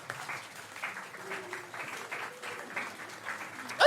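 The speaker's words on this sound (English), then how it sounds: "if you guys will start clapping in a kind of calm manner" A comedy show audience claps calmly, a soft, steady patter of many hands at moderate volume, with a brief louder burst at the very end.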